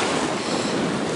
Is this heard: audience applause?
no